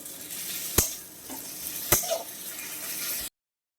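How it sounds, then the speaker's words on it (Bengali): Garlic paste sizzles steadily in a frying pan over medium heat with softened onions, while a spatula stirs it and strikes the pan with two sharp clicks. The frying stops abruptly near the end. "এবার আমি দিয়ে দিচ্ছি রসুন বাটাটা একটু নাড়িয়ে চাড়িয়ে রসুনটা ভেজে নেবো"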